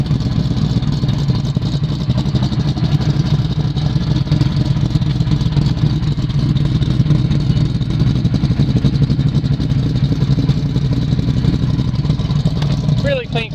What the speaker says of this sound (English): you listen to that exhaust. The Z28 cam's got a nice sound to it.